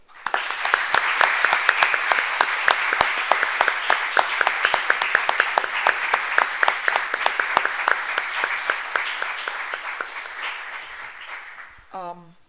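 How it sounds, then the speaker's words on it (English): A room full of people applauds at a human rights lecture, dense steady clapping that gradually tapers off, with a brief clink or jingle at the very end. "join me in a round of applause"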